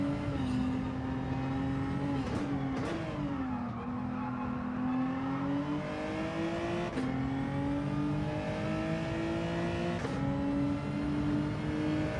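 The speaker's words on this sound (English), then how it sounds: "hear the tyres starting to complain" Tyre squeal from a race car in Gran Turismo 7, a sustained engine drone with a thin complaining whine from the tyres rising and dipping through corners, steady and continuous without talk.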